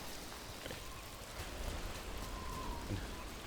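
Steady, soft rain falls in the video game Dragon Age: The Veilguard, a continuous hiss of drops on surfaces with no voices over it.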